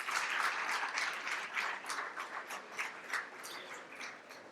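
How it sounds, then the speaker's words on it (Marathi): Applause from an audience at a Loksatta Shaharbhan public event in Mumbai, steady and fairly loud at first, then thinning into scattered claps as it fades. "पुन्हा एकदा जोरदार टाळ्या आपल्या सगळ्यांकडून अपेक्षित आहेत"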